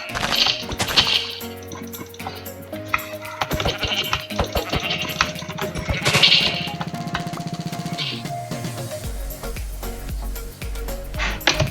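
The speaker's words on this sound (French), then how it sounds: "Ah, notre petit mouton noir." A black sheep in the video game Minecraft gives a few bleats over continuous game music and scattered hitting sounds, the calls moderately loud and close, with no talking.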